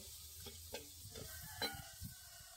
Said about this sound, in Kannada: ಈರುಳ್ಳಿ ಒಳ್ಳೆ ಫ್ರೈ ಆಗಿದೆ.